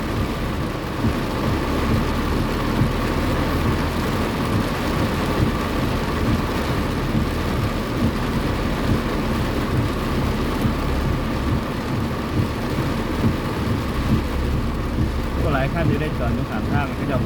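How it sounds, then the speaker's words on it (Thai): Heavy tropical downpour with thunder on a roadside near Udon, Thailand, where cars and motorcycles have pulled over to shelter on a bridge. A dense, steady roar of rain fills the whole stretch with deep rumbling beneath it. "ฝนตกหนักไปต่อไม่ได้นะครับ"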